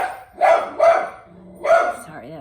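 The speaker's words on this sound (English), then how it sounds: "That is Willie's bark to tell me the mailman is here every single day." A dog gives three loud, close barks, two in quick succession and a third after a short pause, followed by a faint whine, barking at the arrival of the mail carrier.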